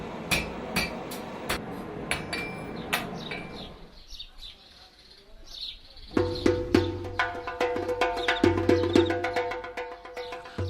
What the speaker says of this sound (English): The blacksmith does not put down his hammer until the iron is subdued